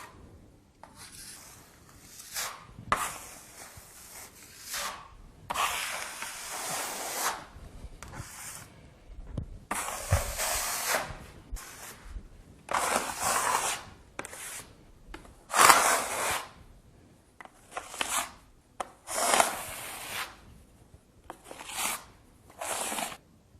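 A blade spreads and smooths a plaster skim coat across a wall, giving bursts of scraping and rubbing strokes with short pauses between them, close by and fairly soft.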